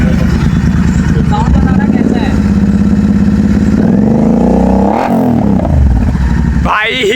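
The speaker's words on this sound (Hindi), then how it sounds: "अभी GT 650 की आवाज़ सुनते हैं" A modified Royal Enfield GT 650 with an SC Project exhaust revs loudly and close by, holding a heavy steady drone that swells and climbs in pitch, while voices talk over the engine.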